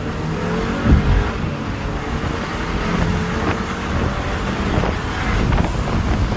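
A MINI Cooper Convertible pulls away uphill, its engine note rising steadily as it accelerates, heavily buffeted by wind noise across the microphone with the roof open.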